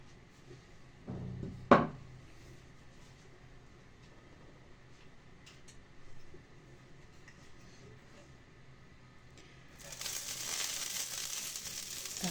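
A thud and clatter of cookware, then a steady loud sizzle of pancake batter hitting a hot 28 cm frying pan on medium heat near the end.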